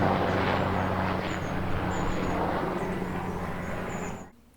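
A Puma helicopter with a four-bladed main rotor passes close by as a loud, steady rotor and engine roar with a low humming drone, holding level for about four seconds before cutting off abruptly.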